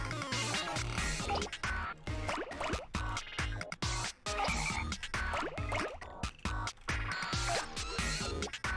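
Frogs croaking in the video game Katamari Damacy REROLL, faint choppy croaks repeating over busy game music and effects.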